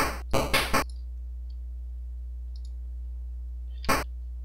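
A PSG sound chip's noise generator on its basic setting, with three quick bursts of hiss close together, a long near-silent gap with a steady low hum beneath, then one more short burst.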